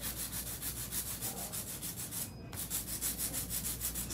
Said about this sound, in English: Hand filing is actually a really good technique to actually get yourself.